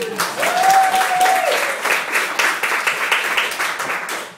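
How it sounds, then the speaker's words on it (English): A crowd applauds steadily, dense clapping that holds for several seconds, with a brief whistle-like tone near the start. "Give him a round of applause."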